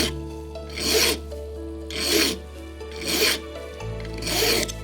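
A file rasps back and forth along a small tapered pin for a clock movement in four slow, even, close strokes, each broad stroke swelling and fading with short pauses between, with a low hum underneath and no talk.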